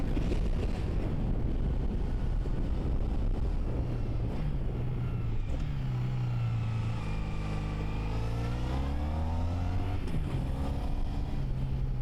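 A 1986 Honda VF1000R, a liquid-cooled four-cylinder four-stroke with a 6-speed gearbox, is ridden at speed. Its engine note rises and falls through gears beneath loud, constant wind buffeting on the microphone.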